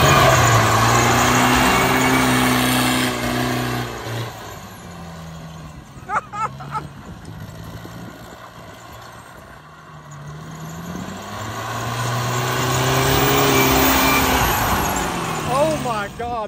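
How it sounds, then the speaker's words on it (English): A turbocharged rice tractor in Thailand, rigged to roll coal, revs and launches as a loud engine drone with rising and falling pitch, easing off midway before building again. "When's the last time you've seen a turbo tractor launch from a dig?"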